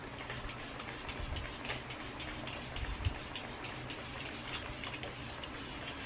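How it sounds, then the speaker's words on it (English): Makeup setting spray misted from a bottle in a series of quick, closely spaced hissing pumps, soft and near, over a faint room hum with no talking. "So one last setting spray, but I might use my other one"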